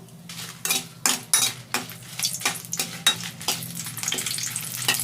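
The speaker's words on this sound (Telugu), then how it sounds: "దీన్ని ఆయిల్ వేడెక్కిన తర్వాత ఎండుమిరపకాయలు అనేది ఇందులో వేసేస్తున్నాను ఆయిల్లో" Dried red chillies crackle and sizzle in hot oil in a pan, with the clatter of a stirring spoon and utensils striking the pan in irregular bursts; near and fairly loud, with no talk.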